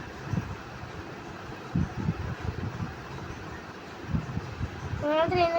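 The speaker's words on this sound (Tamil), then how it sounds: "நம்ம ட்ரெயின் வந்துடுச்சு." An arriving train rumbles steadily with rhythmic clattering, and a tonal horn-like whine rises near the end.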